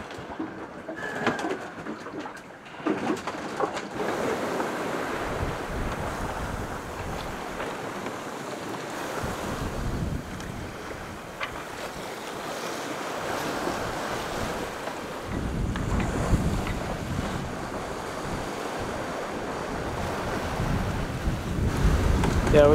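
Big ocean waves wash and surge behind a sailboat at sea, a steady broad rushing roar with wind buffeting the microphone and swells building louder toward the end; no voices.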